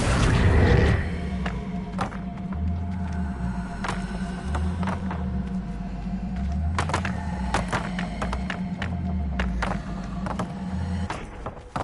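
Spell effects cast in the Hogwarts Legacy video game, including Accio, with a sharp whooshing burst followed by a run of thuds, mechanical clunks and a low rhythmic hum.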